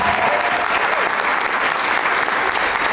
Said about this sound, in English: Let's give a huge round of applause for it.